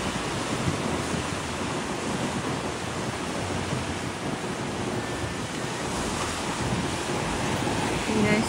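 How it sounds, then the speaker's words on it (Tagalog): Ocean waves roll and crash along a shore in Japan, a continuous loud roar of surf with wind noise on the microphone and no clear talk. "Tingnan niyo yung alon."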